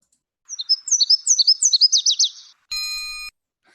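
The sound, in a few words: Nashville warbler song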